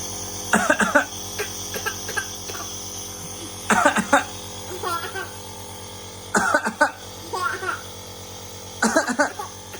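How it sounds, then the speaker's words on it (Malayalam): Repeated bursts of coughing alternate between an adult and a small child with breathing trouble, close by, in a back-and-forth rhythm over a steady hum at night. "അതിനിടയ്ക്ക് ഒന്ന് ചുമച്ച് കാണിച്ചാൽ അവൾ ഇങ്ങോട്ട് തിരിച്ച് ചുമയ്ക്കുവാണേ"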